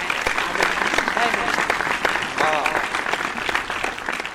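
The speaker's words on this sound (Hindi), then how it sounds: "अतिथि कवि को हम पूरा सम्मान दें, जोरदार तालियां बजाएं।" Enthusiastic audience applause for a guest poet at a Hindi poetry gathering, a dense, sustained clatter of many hands clapping close by, with a voice speaking faintly over it.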